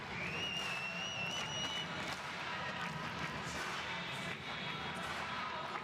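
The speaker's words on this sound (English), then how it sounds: "he'll block out all of this good-natured cheering from the home crowd" Enormous home crowd at an Invictus Games table tennis match keeps up steady, good-natured cheering and applause, a dense continuous roar with a few whistles rising early on.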